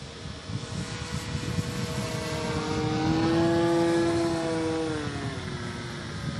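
Black Horse Proctor ducted-fan RC jet taking off from a paved runway, a steady turbine whine that climbs in pitch and swells in the middle before easing as it gets airborne, heard from fairly close.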